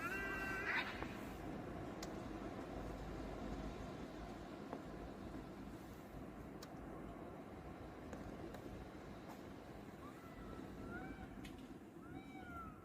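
A kitten meows outside an apartment block before dawn: a short, clear cry early on, then a few faint, rising calls later, all over a steady low background hum.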